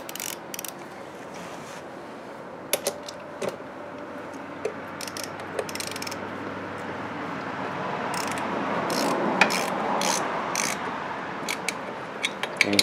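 Socket ratchet tightening exhaust bolts on a Genuine Buddy 125 scooter, giving scattered short clicking bursts close by over a steady low background hum.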